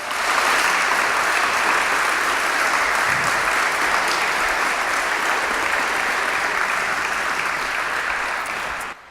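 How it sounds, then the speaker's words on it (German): A large indoor audience gives loud, sustained applause, a thick even roar of clapping that holds for about nine seconds before cutting off, honoring a group at a domino toppling event. "Ich glaube, diese 5 haben sich jetzt nochmal einen ganz kräftigen Applaus verdient"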